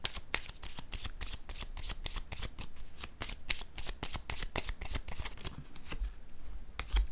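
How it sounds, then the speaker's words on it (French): A deck of cards is shuffled continuously up close, a rapid run of crisp riffling flutters and slaps that carries on steadily with no talk over it. "Je vais piger une autre carte."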